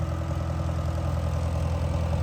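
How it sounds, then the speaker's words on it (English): An old International truck engine idles at a farm scrapyard, a steady low rumble with an even, continuous drone and no talking over it. "You can hear it running in the background."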